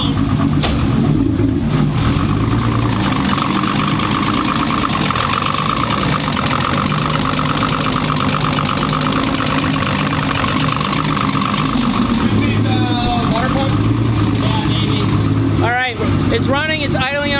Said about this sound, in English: It's running, it's idling on its own.